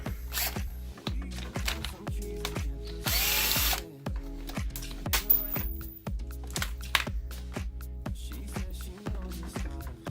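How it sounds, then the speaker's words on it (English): A power tool loosens a bolt on the coolant reservoir of a GSXR motorcycle, heard as rapid, close ratcheting and whirring bursts, with a brief louder hiss partway through and no talking. "Secondly, we're going to go ahead and remove this bolt."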